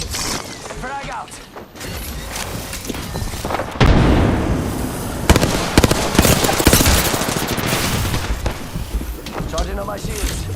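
Frag grenade explosion in an Apex Legends team deathmatch, heard amid dense gunfire, booms and mechanical game effects, with a player's voice calling out over the chaotic combat.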